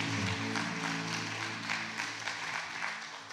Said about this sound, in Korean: 다시 한번 박수해 주시겠습니다